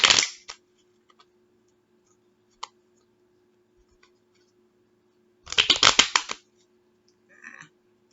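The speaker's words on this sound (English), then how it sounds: "Spirit says two more shuffles." Tarot cards being shuffled by hand: two short, crisp flurries of rapid card clicks close by, separated by a quiet pause, with a few faint taps between.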